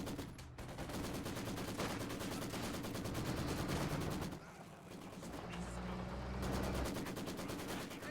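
A Maxim machine gun and a ZiS gun fire in a Company of Heroes 2 battle, rapid bursts of automatic gunfire mixed with heavier cannon reports, loud and continuous with a brief lull midway.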